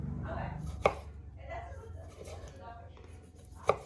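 A slightly dull knife chops through tomato on a cutting board for guacamole, two sharp, close knocks about three seconds apart, with someone talking quietly between them.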